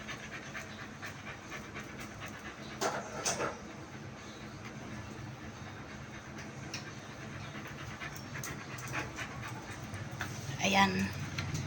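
Several dogs pant rapidly and steadily while eating from their bowls at a birthday gathering, with occasional whimpers and people talking in the background.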